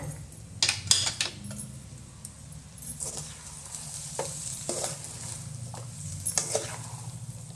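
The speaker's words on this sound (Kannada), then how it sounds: "ಈಗ ನೋಡ್ರಿ ಕರೆಕ್ಟಾಗಿ ತಿರುವೇಟ್ ತೋರಿಸ್ತೀವಿ" A spoon scrapes and turns masala rice with peanuts and onion in a hot pan, giving steady soft stirring and clattering over a constant low sizzle, close up with a few sharper knocks.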